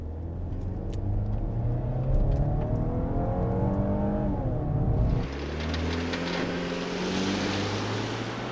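A 2020 Range Rover Evoque P300 R-Dynamic HSE accelerating hard from a stop without launch control, its engine note rising through the revs, dropping at a gear change and climbing again, loud and close with no talking.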